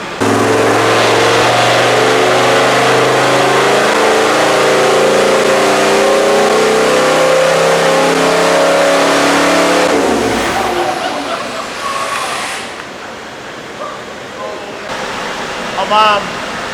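A stroked V8 Land Cruiser with an eight-speed gearbox revs hard through a quiet exhaust, rising and then cutting off after about ten seconds, followed by quieter ambient noise.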